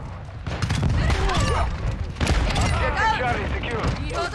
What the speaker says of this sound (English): This is basically a shotgun.